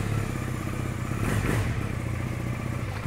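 A Johnny Pag motorcycle engine runs close and loud in a continuous throbbing rumble, with a brief rise and some clatter in the middle and no talk.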